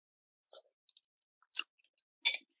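Someone takes three brief bites of hot baked mac and cheese, each a soft, close mastication burst with short gaps of silence between them.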